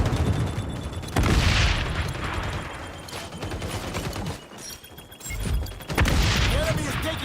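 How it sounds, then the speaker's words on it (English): A frag grenade blast in the XDefiant shooter game: loud booming bursts at the start and end over a busy battle mix of gunfire and clatter, with game voice callouts talking over it. "Throwing frag."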